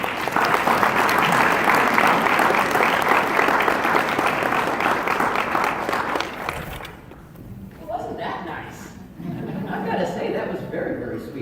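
Audience applause welcoming Dr. Edward Berger as featured speaker at a Celebrate Teaching Week event: dense, loud, steady clapping for about seven seconds, then fading into scattered claps and crowd murmur.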